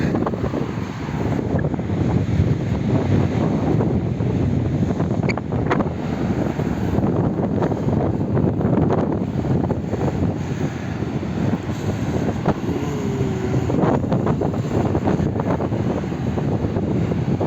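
Sea waves and strong wind on a coastal path, a loud, steady broadband roar of surf and gusting air that fills the whole stretch without pause.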